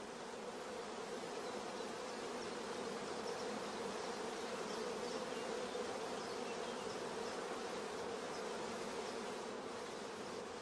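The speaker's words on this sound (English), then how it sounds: "Bees crowding thickly around the cells is a first positive sign of good acceptance" Honeybees hum in a dense, continuous drone around a queen rearing frame, steady and close with no breaks.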